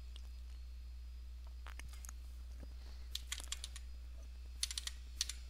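Typing on a computer keyboard, heard as scattered soft key taps that gather into quick clusters near the end over a low steady hum.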